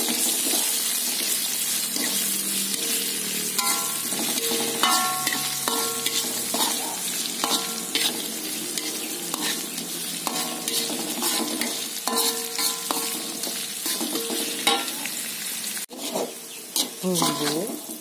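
Leeks go into a pot for chicken soup with meatballs and are stirred, giving a steady sizzle and frying hiss with repeated clinks and scrapes of a utensil against the pan, close and fairly loud throughout.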